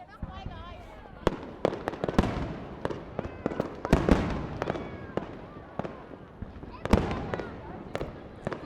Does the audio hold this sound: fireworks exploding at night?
yes